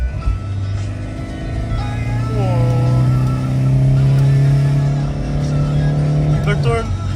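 Renault Megane 1.9 dCi diesel accelerating hard to overtake, heard from inside as a loud engine drone whose pitch climbs through the gears, with a short shift break and a voice talking over it.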